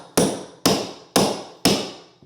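Four sharp hammer strikes on a stair tucker tool pressing a carpet runner into the stair groove, evenly spaced, loud and close, each ringing briefly before decaying.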